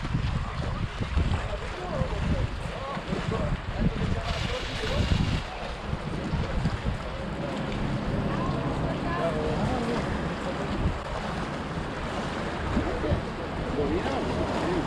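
Strong wind blowing over a lake during a model sailboat regatta, a constant loud rush and buffeting on the microphone with water noise, while people talk faintly beneath it throughout.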